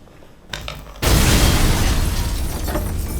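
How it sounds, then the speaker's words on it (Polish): A few quick clicks and pops, then a sudden loud blast that rolls on as a sustained roaring rumble, an explosion in the survival horror video game Resident Evil 7: Biohazard. "Ten jeszcze mi wybuchnął"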